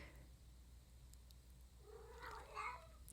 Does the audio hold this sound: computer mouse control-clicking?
no